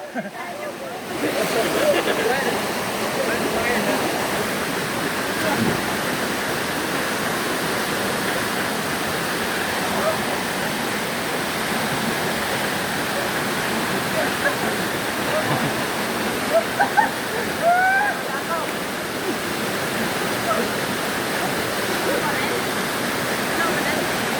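A waterfall in Palawan: a loud, steady rushing roar of falling water that runs without a break, with voices calling out now and then over it.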